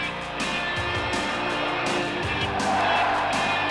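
Monster truck engines roar close and steady with bursts of tire squeal, in a 1992 monster truck motorsports setting, loud and continuous throughout.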